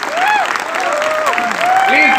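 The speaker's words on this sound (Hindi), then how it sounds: "जोरदार तालियों से स्वागत करिए" Audience applause greeting people on stage at a business meeting, steady clapping with cheering voices and tonal whoops over the crowd.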